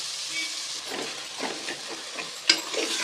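Masala is fried in a pan with a steady sizzling hiss, and a few scraping stirs and one sharper clink rise over it. No voices are heard.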